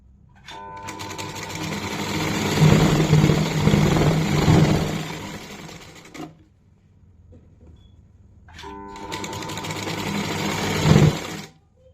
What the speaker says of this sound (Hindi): अब हम इसके बीच की स्टिचिंग करेंगे। ये यहाँ पे हम बीच से स्टिचिंग करेंगे।